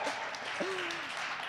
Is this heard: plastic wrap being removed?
no